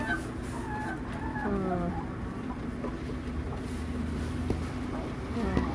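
Thirty laying hens cluck and murmur while drinking and feeding in a steady, busy chorus, with occasional higher calls rising over a constant farmyard background.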